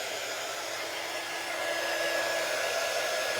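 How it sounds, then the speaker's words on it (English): A hair dryer blows steadily to dry freshly applied sea spray paint on refinished furniture, a close, continuous airy whoosh with a faint whine that grows slightly louder partway through. "let's hit this with the dryer really quickly."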